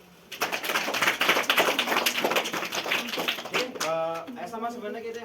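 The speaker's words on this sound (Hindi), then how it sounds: "बहुत बढ़िया शाबाश ताली बजाओ" Children at a village art competition prize-giving applaud in a dense, steady burst of clapping that lasts a few seconds before it fades, and an adult voice then speaks.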